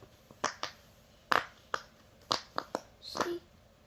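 A series of sharp, quiet pops from an apple-shaped bubble fidget toy, pressed on its loud side, comes in an uneven rhythm, close up, with short gaps of near silence between them.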